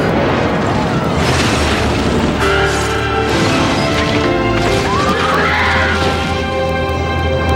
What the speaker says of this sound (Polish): Samolot z drużyną rugby na pokładzie rozbija się w górach.